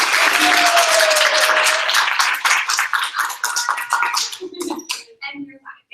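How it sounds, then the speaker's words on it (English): A round of applause at an office success meeting, dense clapping from a small group, loud and close, tapering into scattered claps and brief voices toward the end. "Can we just give her like a round of applause?"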